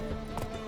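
Horse hooves galloping in The Witcher 3 video game, a quick clip-clop of hoofbeats in a short burst, fairly faint and heard alone.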